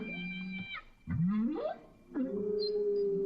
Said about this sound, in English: That very high squeak is actually the whale.